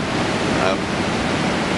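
Surf at Anglet beach on an early summer morning under light onshore wind, a steady broad wash of breaking waves with no voices over it.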